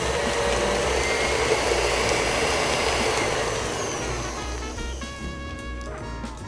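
A stand mixer with a paddle beats cookie dough after a second egg goes in, giving a loud, steady motor whir with a rattling hum that eases slightly toward the end, where a voice briefly speaks.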